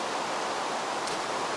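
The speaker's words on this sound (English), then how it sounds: "I wish this rain would end" Steady, even hiss of rain falling in the Minecraft video game, a continuous wash of noise with no breaks and no other sounds.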